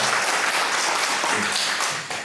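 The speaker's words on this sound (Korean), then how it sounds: "큰 박수 부탁드리겠습니다." Audience applause at a book talk, dense and steady clapping close by for about two seconds before easing off at the end.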